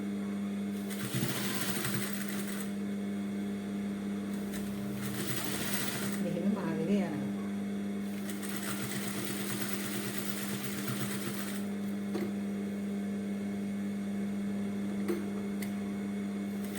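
A sewing machine stitches a brassiere with quarter-inch seams, its motor whirring in several bursts of a few seconds each with pauses between, close by under a steady background hum.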